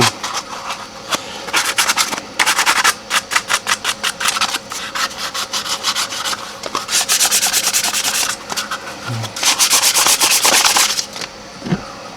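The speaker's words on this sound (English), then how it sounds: "Take the sandpaper, just go around it and smoothing everything you can get to." Hand sandpaper rubs along the edges of a kydex holster in quick rhythmic strokes, a rasping scratch that comes in bursts with short pauses between, close up and with no voices.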